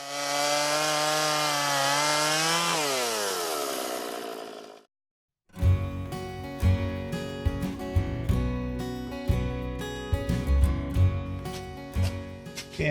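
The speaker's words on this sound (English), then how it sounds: "Steve bucked the timber for later use" A chainsaw bucks felled timber into lengths. The engine revs high and drops in pitch as it bites, falls silent briefly, then chatters and knocks unevenly at idle.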